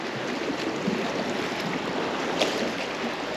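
Calm sea washes softly by a sanatorium pier on a sunny day, a faint, even wash of water with light wind and a few small slaps, no voices.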